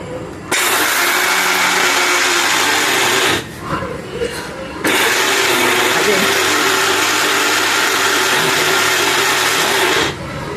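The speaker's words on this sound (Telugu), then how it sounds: "మిక్సీ వేయండి." A kitchen mixer grinder whirring loudly at home, running continuously, pausing briefly partway through, then starting up again at full intensity.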